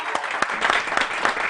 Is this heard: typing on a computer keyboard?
no